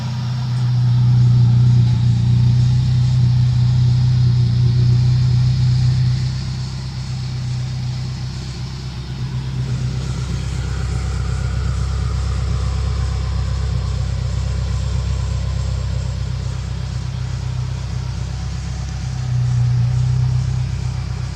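A 2.4-litre swapped Dodge Neon with a TTI long tube header and 2.5-inch mandrel-bent Vibrant ultra quiet exhaust idles steadily, a low, even rumble running alone throughout with a brief dip in level partway.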